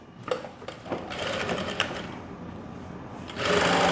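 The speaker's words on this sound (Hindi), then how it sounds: "देखो ऐसे ऐसे सिलाई लगानी है और फिर इसको बाद में सीधा करेंगे" A sewing machine stitches a pocket seam on Korean-style pants, running in a loud, steady mechanical whir with quick needle clatter, surging louder toward the end.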